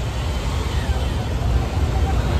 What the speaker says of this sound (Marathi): बघू शकता किती ट्रॅफिक लागले आणि सर्वांची किती धांदल चालू आहे